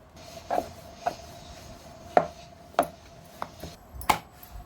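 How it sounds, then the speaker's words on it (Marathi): Chapati dough is rolled out on a board, giving about ten sharp, irregular wooden knocks and light rubbing in a quiet room. "त्याची चपाती लाटून घेऊया"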